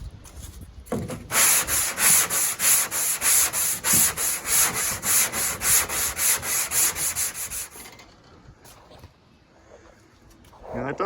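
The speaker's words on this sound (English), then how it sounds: "that was what, 30 seconds of sanding?" Aluminum bodywork on a truck is sanded by hand with sandpaper in loud, close, rhythmic back-and-forth rasping strokes, about two per second, for several seconds before fading to quieter background sound.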